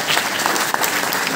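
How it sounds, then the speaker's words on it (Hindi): An audience claps at a youth motivational meeting in Lumbini, Nepal: dense, sustained applause from many hands, steady and fairly loud throughout, with no voices standing out. "तालियां बजाओ।"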